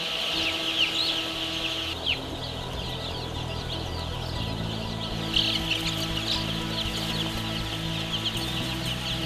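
Many broiler chicks and chickens raised for samgyetang cluck and peep continuously in a busy barn chorus on a chick farm in Anseong, Gyeonggi-do, South Korea, steady and close, over a low background hum.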